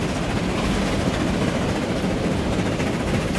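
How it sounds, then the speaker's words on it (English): An express train passes in the Transport Fever 2 rail simulation, giving a steady, loud rumble and hiss that holds evenly throughout without any speech. "Here's an express train on its way back."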